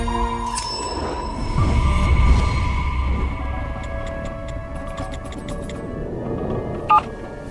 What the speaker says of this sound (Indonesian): Mungkin Vivian kerja sibuk banget, jadi nggak ngangkat telepon.